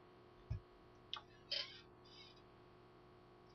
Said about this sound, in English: click sound